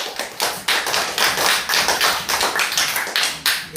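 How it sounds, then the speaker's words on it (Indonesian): A group claps hands together in a steady, even rhythm, sharp close slaps repeating about three times a second with no talking. "Ya, tepuk tangan."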